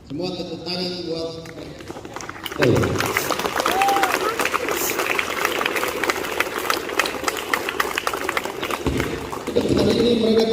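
After a school flag ceremony at SMP Seminari St. Johannes XXIII Langgur, an outdoor audience breaks into sustained applause lasting several seconds, with voices talking before and over the clapping.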